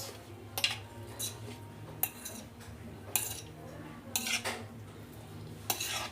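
Dinakdakan ingredients, Abra style with ginger, being mixed by hand with utensils in a bowl, giving scattered clinks and scrapes of cutlery against dishware over a low steady background hum, with louder knocks every second or so.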